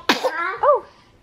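A small child sneezes once, close and loud, followed by a short voiced sound.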